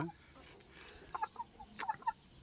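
Soft, scattered clucks from a few hens, quiet and irregular, against a faint hushed background.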